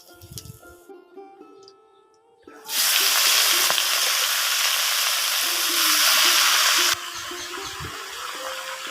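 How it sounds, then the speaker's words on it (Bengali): Small puti fish from a home pond sizzle in a frying pan: after a few quiet seconds of light clatter, a loud, steady broadband frying hiss rises, then eases to a softer sizzle. "তারপরে যে পুঁটি মাছ ছিল আমাদের পুকুরের পুঁটি মাছ, তো সেগুলো এখন আমি ভেজে নিলাম"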